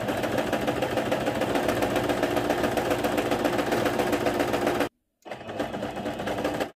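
A household sewing machine stitches a simple picot edge with a fast, steady mechanical chatter, loud and close, stopping briefly before running again.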